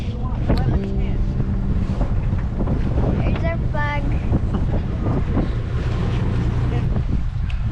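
Heavy wind on a sailboat buffets the microphone with a loud low roar, gusting steadily, while a voice speaks briefly and rigging or a flag flutters.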